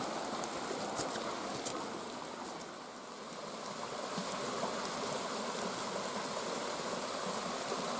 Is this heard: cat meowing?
no